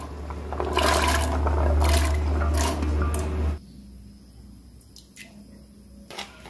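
Water pours into a pressure cooker with a loud, steady gush that lasts a few seconds and then stops abruptly. After it, a quiet room remains with a few faint clinks.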